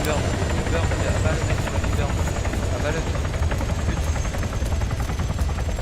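Helicopter rotor and engine drone in a video game shooting mission over a sand area, steady and fairly loud throughout, with voice chat from players over it.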